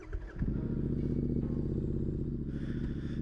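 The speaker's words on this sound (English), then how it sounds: "Let's go ride a motorcycle." A Royal Enfield Interceptor 650 motorcycle starts up and settles into a steady, loud, close engine rumble, with a brief rise in revs near the end.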